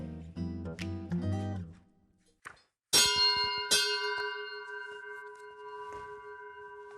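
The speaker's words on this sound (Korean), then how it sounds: "종소리에 냉큼 달려오시는 남편" A hand bell is rung at home to call someone, giving two sharp bright strikes that ring out and decay slowly, after a few seconds of muffled clattering and voices.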